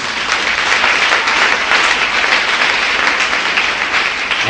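Church congregation applauding, steady dense clapping filling the whole stretch, loud and close with no break.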